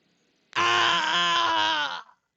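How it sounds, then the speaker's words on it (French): A drawn-out anguished howl of someone in pain, used as a tabletop RPG sound effect, rising suddenly and holding loud for about a second and a half before cutting off, heard alone. "un hurlement de quelqu'un qui visiblement est dans la douleur"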